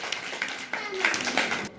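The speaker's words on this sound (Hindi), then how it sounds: "क्लैपिंग गो।" A group of children clapping at a quiz game, a quick burst of applause lasting under two seconds, fairly close and loud, with a voice partly heard along with it.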